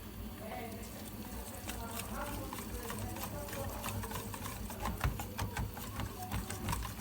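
Harira soup mixture being whisked steadily in a pot to keep out lumps, a continuous rapid scraping and rattling close by, with a voice talking under it.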